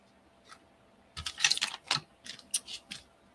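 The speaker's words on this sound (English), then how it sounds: "let me grab my die cut machine" A die cut machine being handled on a crafting desk: a quick run of light plastic clicks and taps, closely spaced and close by, with no one speaking.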